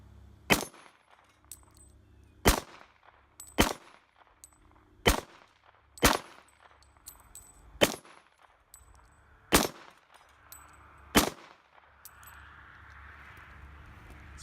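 SIG P220 Elite pistol firing at small targets outdoors: eight sharp, loud, close shots spaced one to two seconds apart, each with a short ringing tail, then a quiet stretch of background noise.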